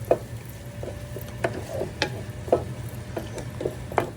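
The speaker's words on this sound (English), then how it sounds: "I've been sauteing it on low medium for about a minute and a half again, 2 minutes" Onion, tomato, garlic, ginger, cumin and asafoetida sauté in a pan over low-medium heat, a soft steady sizzle broken by regular clinks and scrapes of stirring.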